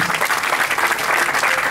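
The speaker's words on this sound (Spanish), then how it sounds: "Un aplauso para ustedes" A crowd at a Gran Turismo GT1000k motorsport event claps steadily in a brief, dense burst of applause, close and loud with no voices standing out.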